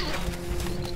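Horses' hooves clip-clopping in the medieval castle-siege video game Stronghold 2, a brief, dense patter of hoofbeats with a faint whinny-like tone, heard alone.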